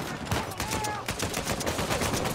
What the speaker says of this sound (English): Who the hell shooting me?